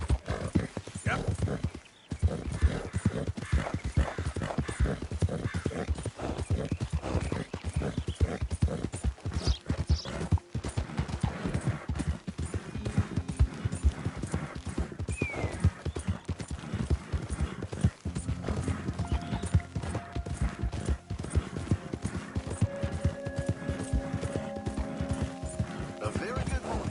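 Horse hooves clip-clop steadily in Red Dead Redemption, a continuous trotting rhythm with an occasional whinny, while someone talks over it.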